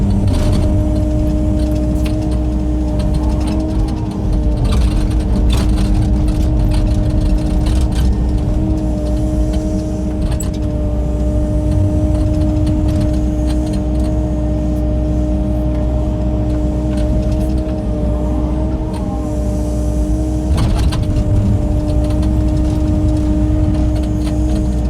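A vehicle engine drones steadily and close while scraping the road up a drive, a constant low rumble with no break and no talk.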